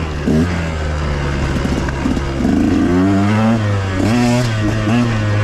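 A 2021 KTM 125XC dirt bike engine runs loud and close, a steady rough idle rising into several throttle blips and revs, with no voices.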